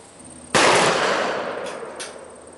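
A single loud, sharp blast from a Chiappa Double Badger shotgun firing a Federal number 6 3-inch shell outdoors at a 30-yard range, followed by a long fading echo.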